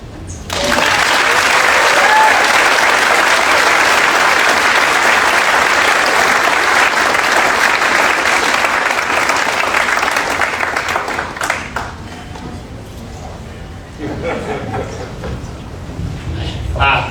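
Audience applause at the Harvest of the Heart 2024 benefit event, honoring teachers: loud, thick crowd clapping that swells right away, holds strong for about eleven seconds, then thins and tapers with scattered claps and some murmuring.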